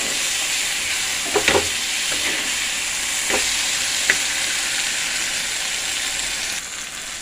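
Chopped okra (ladies finger) fries in a pan with a steady, close sizzle, broken by a few sharp scrapes and taps of a spatula.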